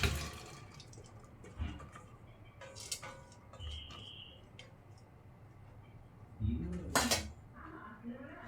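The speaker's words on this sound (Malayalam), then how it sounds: "അപ്പോൾ നമുക്കിതിലേക്ക് ആദ്യം കുറച്ച് വെള്ളപ്പയർ ഇടാം" White cowpeas tipped into a cooking pot for a yam-flower curry: scattered clinks and rattles of a metal pot and utensils, with a brief louder clatter near the end, against quiet kitchen background.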